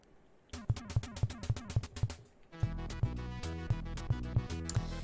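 Sega Genesis game music played through FM audio, with a sparse opening of plucked bass notes, then a fuller section of steady bass pulses and layered synth melody, loud and continuous with no talk.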